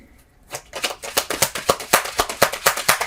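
Tarot cards riffle-shuffled in steady, quick crisp bursts, about a dozen sharp snaps in a regular rhythm, close and fairly loud with no talking over them.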